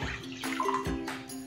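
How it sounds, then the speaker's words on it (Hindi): Milk pours into a bowl with a short, gentle liquid splashing and gurgling that stays close and fairly quiet. "बाउल के अंदर हम लोग मिल्क डालेंगे"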